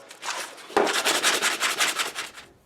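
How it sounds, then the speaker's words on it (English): Steady rhythmic rasping strokes of sandpaper rubbed back and forth across hard plastic edges, close up, with no talking. "I'm going to sand all these edges down"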